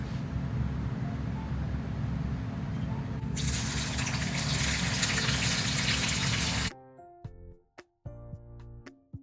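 Three onions hit hot oil for Hyderabadi biryani, and a low background hiss jumps into a loud, bright, steady sizzle for a few seconds before cutting off abruptly as a short musical passage takes over.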